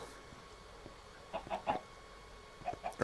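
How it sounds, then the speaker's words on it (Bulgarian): Several chickens clucking in Minecraft, short clucks in small bursts over a quiet background. "Би трябвало тук да има кокошка."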